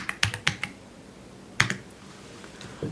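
Computer keyboard keys are typed to enter a router command in a networking lab, a few quick close clicks in two short bursts separated by a pause.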